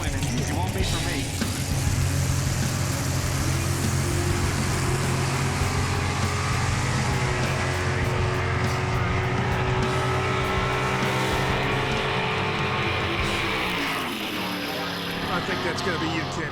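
Drag racing cars launch and run down a strip at a televised drag racing game show event, with loud sustained engine roar and rising harmonic sweeps as the cars pull away, under ongoing commentary.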